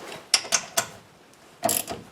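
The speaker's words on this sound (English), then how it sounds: "a regular ratchet." A regular ratchet works on rear brake caliper bolts of a 2017 GMC Acadia Denali, producing a few sharp close clicks, a pause, then another short burst of ratcheting.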